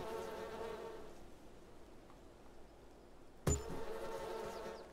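Bees buzz around beehives in the farming game Farming Simulator 22: a steady, layered droning hum that holds throughout, broken by one sharp knock near the end.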